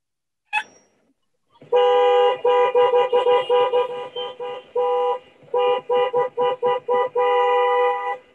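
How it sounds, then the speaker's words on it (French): Car horn honking repeatedly in short and long bursts, loud and close, heard during a Zoom call with no talking over it. "Coupe ton micro quand tu klaxonnes!"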